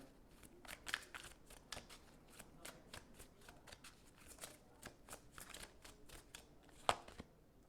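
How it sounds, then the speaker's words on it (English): Oracle cards being shuffled and pulled from a deck, a quiet, close run of rapid papery riffles and flicks with one sharper snap near the end. "Let's pull a fallback card."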